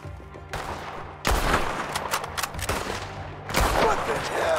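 Rapid gunfire in a Wild West shootout in Red Dead Redemption 2, with dense bursts of shots and fusillades starting about half a second in and swelling toward the end, loud and close.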